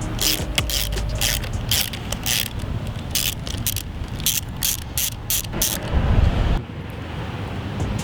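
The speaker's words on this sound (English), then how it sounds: "use your socket to remove the bolt on this wheel" Ratchet socket wrench turning to loosen the wheel bolt on a Boosted Board electric skateboard, a close, steady run of fast clicking bursts repeating through the clip before stopping near the end.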